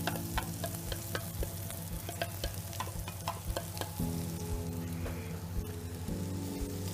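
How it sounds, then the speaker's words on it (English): Chopped onion hits a hot pan in a shepherd's pie preparation, a close, steady sizzle and crackle with scattered pops and clicks of stirring throughout. "So I'm going to put my onion in, and you'll hear a big sizzle when all of it goes in."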